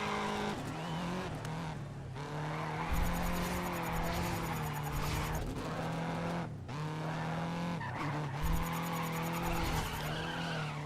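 A race car in the GRiD racing video game slides through a handbrake skid, tyres squealing steadily over a droning engine for several seconds, the squeal dipping and returning as the car spins out.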